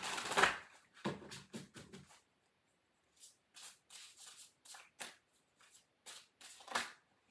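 Witch's Familiar Oracle cards being shuffled by hand, close and fairly quiet: a run of quick riffling bursts, a short pause, then more scattered flutters and slaps of the card stack.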